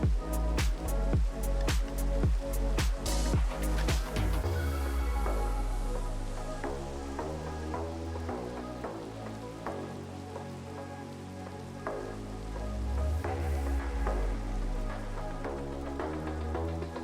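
Rain falling at night on a farm during landscaping work, a steady soft patter with some louder close drips and taps early on, continuing evenly under faint low rumbling.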